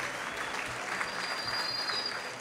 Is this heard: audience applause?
yes